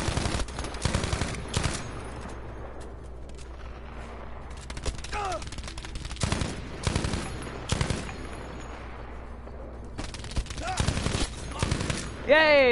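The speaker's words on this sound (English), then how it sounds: "Okay, we're just gonna blind fire and hope this happens" Blind gunfire in Battlefield V: loud, close bursts of automatic fire in repeated volleys with brief gaps, set against battlefield noise and a few whooshing effects.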